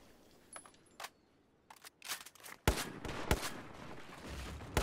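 XM25 airburst grenade rounds in Battlefield 4 striking a concrete wall: a run of sharp, loud blasts, spaced at first and then coming faster, with rumbling debris and crackle filling the gaps between impacts and no talk.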